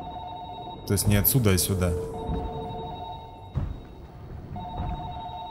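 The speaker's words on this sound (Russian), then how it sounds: "Телефон работает. Кто же мне отсюда звонит?" Telephone ringing inside the video game Narcosis, a repeating electronic ring in spaced bursts with someone talking over it.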